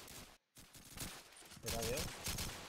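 Gunfire from a shooting video game comes as rapid bursts of shots over game noise, with someone talking over them.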